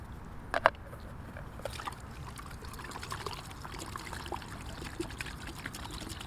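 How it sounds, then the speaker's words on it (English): Water pours and trickles into a Trangia 27 camping pot holding stinging nettles, a continuous splashing flow close by with a few light clinks near the start. "we're going to add some water."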